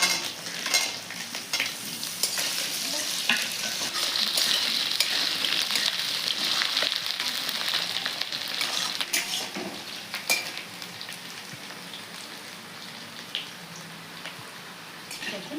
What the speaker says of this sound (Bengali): আলুটাও লাল লাল করে ভাজিয়ে নিচ্ছি